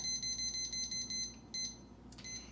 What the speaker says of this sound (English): And I set the timer, and I always do that.